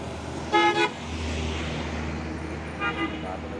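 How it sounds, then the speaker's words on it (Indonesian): A Siwa Surya trailer truck on a roadway passes close by and sounds its loud horn in a short toot, then a second fainter toot follows, over steady traffic rumble. "Ini juga ada satu nih truk trailer Siwa Surya, wow."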